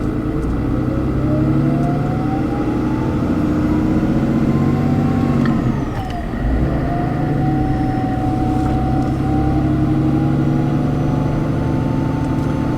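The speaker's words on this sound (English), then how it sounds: "let's give her the first cold start on the new camera" A car with a Wehrli intake and stock turbo idles after a cold start, a loud, steady engine drone with a rising turbo whine. It dips briefly midway and then settles back to an even, close-miked hum.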